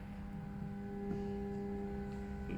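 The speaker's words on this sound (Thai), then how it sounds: "เวลาเสียบไฟแล้วมันไม่ทำงานนะครับ มันก็จะ ดัง อื้ออื้ออื้ออื้อนะครับ" Steady low electrical humming from a stalled fan motor, a constant buzzing drone with no whir of blades, faint and close, no speech.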